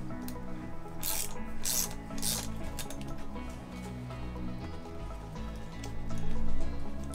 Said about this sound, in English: take a T30. I just so happen to have it in socket form, and loosen up the brake lever bracket